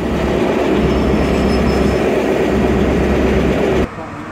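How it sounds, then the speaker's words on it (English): Two British Rail Class 43 HST power cars, 43-180 and 43-125, pull a packed Great Western Railway service out of Bristol Parkway station, a loud continuous engine roar and rail rumble that cuts off sharply near the end. "departing now is the massively sardine canned 43-180 and 43-125"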